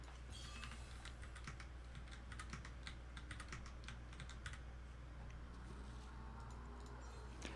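Computer keyboard keys clatter in quick, irregular bursts of typing, close and fairly quiet over a low steady hum, with no talking.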